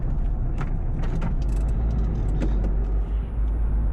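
A car drives along a road with a steady close engine and tyre rumble that holds evenly throughout, with faint rattles inside the cabin and no voices.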